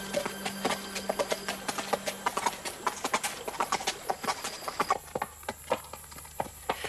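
Horses' hooves clip-clop in a steady rhythm as riders head home past a creek, the clear close hoofbeats continuing throughout with faint background ambience.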